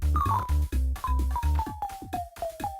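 A short run of bright electronic chiming tones, each dropping slightly in pitch, over a buzzy low synth pulse, like a cheap game pickup effect repeating: the collectible sound from the Atari Jaguar port of Rayman.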